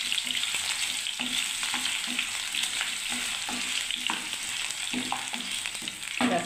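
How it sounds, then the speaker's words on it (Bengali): Potatoes, carrots and onions sizzling steadily in a pan for a soybean and potato curry, with regular close scrapes and clinks of a spoon stirring through the crackle. "এবার আমি এটাকে কষতে থাকবে আলু আর পেঁয়াজটাকে বন্ধুরা"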